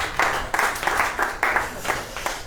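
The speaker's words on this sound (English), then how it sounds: "this is now the time for a round of applause." An audience at an entrepreneur business talk breaks into a round of applause, dense sustained clapping from many hands filling the room, fairly loud and close.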